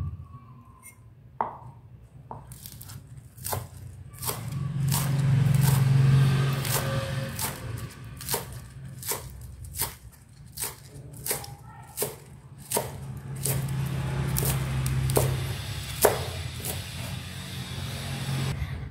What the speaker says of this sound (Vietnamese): Hành lá mình thái nhỏ ra.